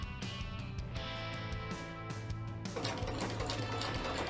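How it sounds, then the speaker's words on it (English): A sewing machine runs steadily, sewing a seam on leggings, its needle thumping in a fast mechanical rhythm that grows busier and louder partway through. "So now we are going to sew right up this seam here at the sewing machine."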